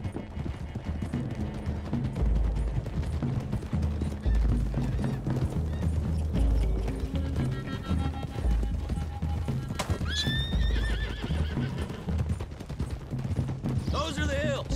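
Horses galloping and neighing in Red Dead Redemption 2, loud rapid hoofbeats with sharp whinnies and a few gunshots over a musical score, with voices talking.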